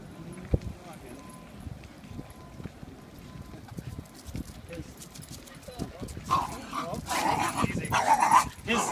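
A dog acts up during a private training session at Venice Beach, with scattered thumps and scuffles near by and a louder burst of agitated noise toward the end, under occasional talk.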